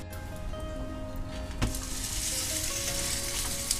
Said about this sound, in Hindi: थोड़ा सा ऑयल हम आसपास में ऐड कर देंगे और अब हम इसको दोनों ही तरफ अच्छा सा गुलाबी कलर आ जाए तब तक पकाएंगे